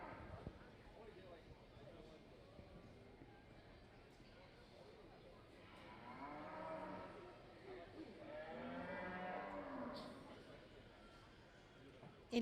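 Brangus heifers at a junior breeding cattle show let out two long, low moos in the middle of the clip, moderately distant inside a noisy show ring with a murmuring crowd.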